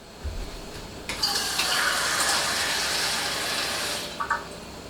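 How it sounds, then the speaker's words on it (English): Water pours steadily into a measuring cup while measuring two cups for quick refrigerated red onion pickles, a continuous close gushing stream lasting about three seconds, followed by a couple of brief clinks. "we're going to measure 2 cups of water"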